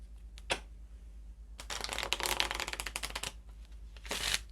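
Tarot shadow cards are shuffled close up: a brief riffle, a pause, then a longer stretch of dense papery flicking and snapping, ending with a final short burst, with no talking.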